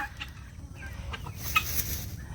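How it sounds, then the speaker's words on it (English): Guinea fowl and chickens in a farm coop give soft clucks and short calls, fairly faint and scattered over a low steady background. "I keep saying chickens, we've also got guineas."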